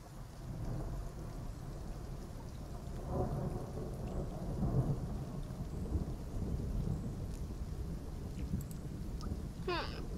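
A thunderstorm in the dinosaur game Path of Titans brings steady heavy rain and a deep, continuous rumble of thunder, loud and enveloping throughout, with a brief higher sweep near the end.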